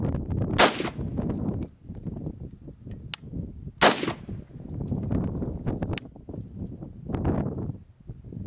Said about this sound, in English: take a few shots, see how it does